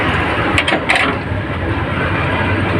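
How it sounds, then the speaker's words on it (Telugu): An Ape auto-rickshaw's BS2 engine runs with a loud, dense mechanical rumble and clatter, steady and close throughout, with a few brief sharper knocks early on. "మనకైతే ఇంజిన్ సౌండ్ వస్తుందండి ఇంజిన్ కిలకిల కిలకిల కిలకినట్టు"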